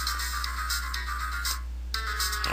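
A telephone rings in the Phoenix Wright courtroom video game, a steady electronic ringtone warbling in repeated bursts with a short pause near the end, heard alone at moderate volume.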